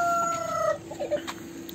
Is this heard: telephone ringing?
no